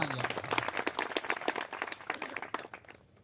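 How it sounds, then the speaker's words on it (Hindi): Loud, dense clapping from an audience applauding students at an education centre award ceremony, sustained for about three seconds and tapering off at the end. "एक बार बच्चों के लिए जोरदार तालियां"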